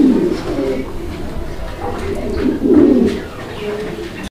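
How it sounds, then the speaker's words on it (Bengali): Several fancy pigeons coo steadily in a loft, low throaty calls rising and falling in overlapping bursts, loudest near the end before a sudden cut. "বন্ধুরা আমরা এই মুহূর্তে দেখতে পাচ্ছি এখানে আরো এক জোড়া কবুতরের কালেকশন রয়েছে"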